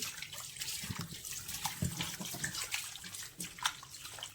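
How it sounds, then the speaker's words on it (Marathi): Surmai (kingfish) pieces are washed under a running kitchen tap, with a steady, faint hiss of flowing water and soft splashes throughout, and no voices. "आता ही सुरमई आपल्याला स्वच्छ धुवून घ्यायची, एकदम स्वच्छ धुवायची."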